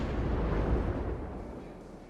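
A naval gun salvo in the World of Warships Legends game, fired from the cruiser Baltimore, comes as a deep booming rumble that swells and then slowly fades over about two seconds, with no speech.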